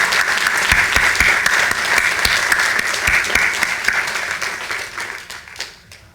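An audience at a university computer science awards ceremony gives a round of applause for the CSE students, a full, even roar of clapping that holds steady and then tapers off toward the end.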